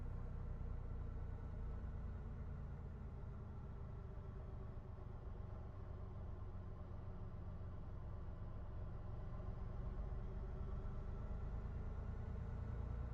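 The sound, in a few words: sim racing game car engine idling like a diesel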